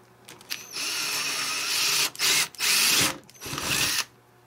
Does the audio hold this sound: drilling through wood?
yes